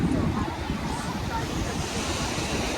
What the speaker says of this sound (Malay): Ni lah beach dia guys.